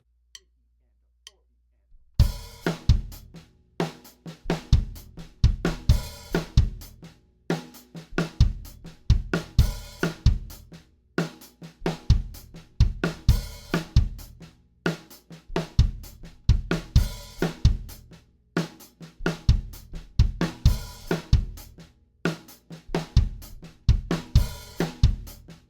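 After a moment of near silence, a drum kit lays down a slow songo groove, an evenly repeating pattern of kick, snare and cymbal hits with clear accented strokes, close and unaccompanied.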